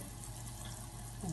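Milk is poured into a cooking pot of roasted tikhoor for a thickened dish, making a soft, continuous liquid stream that stays faint and steady, then swells slightly at the end.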